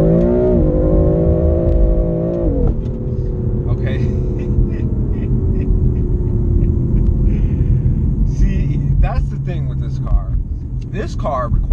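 A BMW M4 with traction control off, on Michelin Pilot Super Sport tires and fresh pavement, gives a loud, close engine note that climbs steadily in pitch, breaks off sharply as if at a shift, then drops into a deep sustained rumble with road and wind roar.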